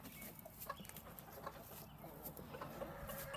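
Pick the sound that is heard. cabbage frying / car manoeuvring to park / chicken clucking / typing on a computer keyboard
chicken clucking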